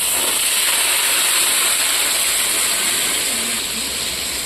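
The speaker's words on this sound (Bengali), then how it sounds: "এবার দিয়ে দেবো ফোড়ন, গোটা গরম মশলা" Whole garam masala spices sizzling in hot ghee, a loud, constant bright hiss close to the pan that holds steady the whole time with no talking.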